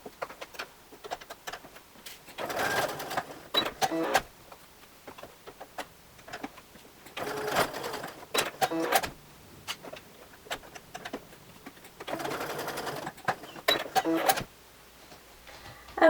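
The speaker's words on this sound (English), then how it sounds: "And then I'm going to be going and stitching across each of those lines to box the 4" A sewing machine stitches across fabric to box the corners of a small travel tissue holder, running in three short bursts of rapid stitching separated by quieter gaps of handling clicks and rustle.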